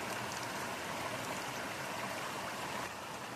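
A small waterfall on a creek along Enloe Creek and Hyatt Ridge rushes in a steady, close, broadband roar with no pauses and no voices.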